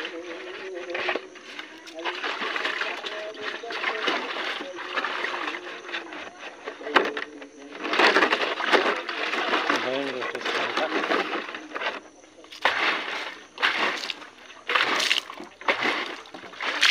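Tap water from a village tap runs steadily into a container, a small tank being filled for washing, with a broad rushing splash that surges and dips over the whole stretch while voices murmur at times.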